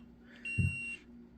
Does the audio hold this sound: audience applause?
no